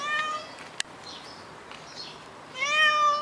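A cat meows indoors nearby. A short meow comes first, then a sharp click and a quiet stretch, and a longer, rising meow ends the clip.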